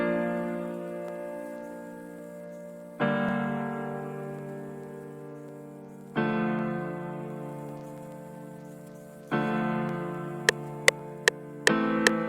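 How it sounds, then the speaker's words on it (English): Soft piano chords from a Rich Ballad preset, played one at a time, each ringing out and slowly fading before the next, with a few faint clicks near the end. "we have this cute chord progression played by a piano"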